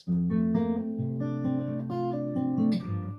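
Acoustic guitar with a capo plays a strummed chord phrase, loud and close, with rhythmic chord changes and steady sustained notes throughout.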